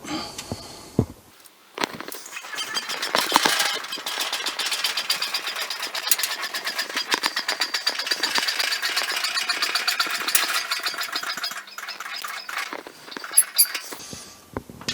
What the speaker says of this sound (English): I'll pump it up and see what height we've got.